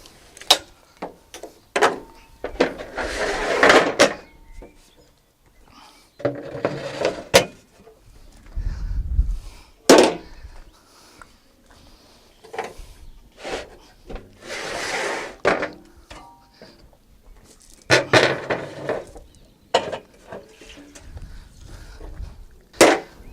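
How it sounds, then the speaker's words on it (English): A ratchet strap being worked on the loading ramp of a Fiat Ducato 3.5-tonne car transporter with a Probuild body, giving repeated sharp clicks and clunks in irregular bursts with short rubbing scrapes between them. "the ratchet strap here"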